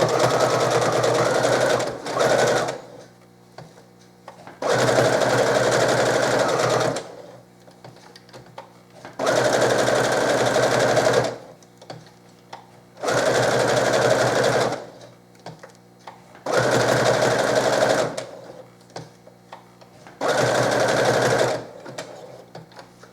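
A sewing machine stitches a fabric Christmas ornament in several steady, loud bursts of rapid mechanical whirring, each lasting a few seconds, with quiet gaps between them while the fabric is turned.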